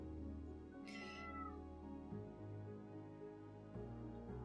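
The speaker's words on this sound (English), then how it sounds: "She meows." A cat gives one clear, close meow that rises and falls, followed by quieter low rustles and small sounds.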